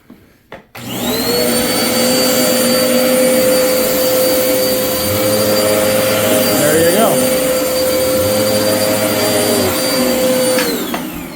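A Dirt Devil PowerMax Rewind vacuum cleaner, a well-used unit over a year old, runs loud and steady as it sucks up coffee grounds, its whine holding for about ten seconds before cutting off, with brief clicks at the start.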